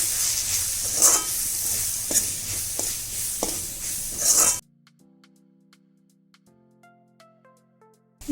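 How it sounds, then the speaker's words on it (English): Maggi noodles being stirred and mixed with Maggi masala in a hot pan, giving a close scraping, sizzling rustle with irregular clinks for a few seconds. It then cuts to soft background music, with no talk. "Mix this also."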